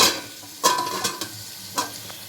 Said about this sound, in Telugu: మూడు మునక్కాయలు కట్ చేసుకొని పీసులు తీసి క్లీన్ చేసి వేసుకుంటున్నాను